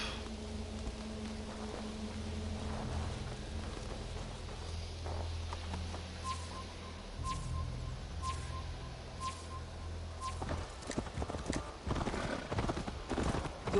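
Horse hooves clip-clop in Assassin's Creed Valhalla, a steady rhythmic trot over a low ambient game bed, with a whinny and other game sounds around it and growing busier toward the end.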